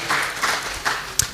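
Audience applause at a Kenyan environmental and public health officers summit greets a newly introduced official, a brief burst of clapping with a few sharper claps standing out near the end.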